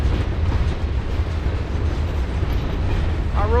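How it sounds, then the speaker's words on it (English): An Amtrak passenger train heading toward California rushes past in Galesburg, Illinois, loud and steady throughout, with a short tonal sound at the very end. "Amtrak train."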